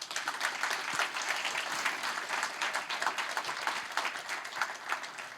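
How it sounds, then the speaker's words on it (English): An audience at a conference on music, brain and health breaks into sustained applause to welcome a guest. The clapping is dense and even, with no speech over it. "Let's just invite him with a big round of applause."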